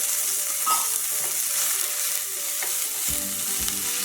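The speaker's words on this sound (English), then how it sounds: "Then we're just going to mix it for a little while." Chopped red chili being mixed in a hot frying pan, a steady sizzling hiss throughout with light scraping stirs near the end, no voices.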